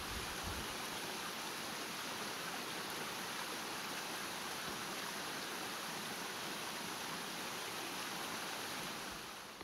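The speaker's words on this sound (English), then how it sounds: "listening to the sound of fish jumping and waterfalls in the background and birds chirping" A waterfall and stream in the background make a constant soft rushing hiss, faint and even from start to finish, with no talking.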